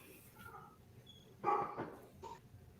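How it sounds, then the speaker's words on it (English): A dog barks in a couple of sharp bursts, upset by Fourth of July fireworks on an evening outdoors, with steady background noise between the barks. "My dog's going crazy."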